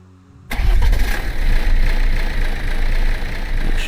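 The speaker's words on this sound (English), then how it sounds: "Put the fuel in, start up the engine." In Minecraft, a flying vehicle's engine starts with an abrupt loud kick, then settles into a steady, heavy, rumbling drone that continues close up, with no voices.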